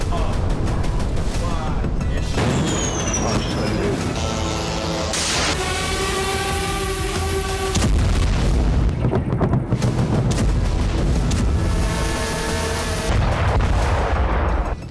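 Artillery shelling and explosions in the Russia-Ukraine war come as heavy booms and rumbling blasts mixed with dense noise and some tonal whines, loud and continuous throughout.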